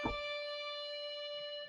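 One synthesized guitar note is plucked and held at a steady, unchanging pitch, sustaining quietly.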